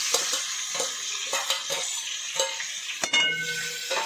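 Ground onion hits a hot pan already holding cumin and bay leaf, giving a bright sizzle with the scrape and clink of a stirring spoon against the pan, close up and without speech.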